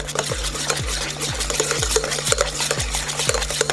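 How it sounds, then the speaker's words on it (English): Melted butter is stirred into hollandaise sauce in a pan, with a steady, rhythmic scrape-and-swirl about twice per second. The close, repeating strokes sit over a soft wet background. "When we add the melted butter, you want to add a very small amount at first. And just stir that in."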